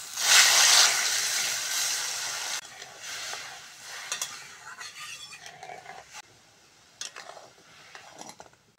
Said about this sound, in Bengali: টকে দুটো শুকনো লঙ্কা ফোড়ন করে নেব।